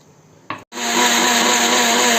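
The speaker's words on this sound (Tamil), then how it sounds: "இப்போ அந்த தேங்காய் வந்து மிக்ஸி ஜாரில் நம்ம போடுவோம் அரைக்கிறதுக்கு" Mixer grinder blending coconut with water in a jar: a brief whirring burst, a split-second stop, then a loud, steady high-pitched motor whine running to the end.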